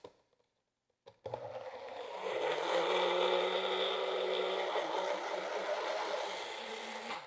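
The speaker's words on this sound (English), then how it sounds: "Then transfer it into a small blender and blend until smooth." A small blender runs steadily through cooked squash and crushed ice, starting with a brief click and then settling into a loud, continuous whirring drone that holds until the end.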